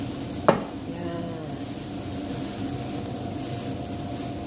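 A spatula stirs mung beans cooking in a hot pan, a single scrape and knock near the start, then a continuous soft sizzle and hiss with no talking.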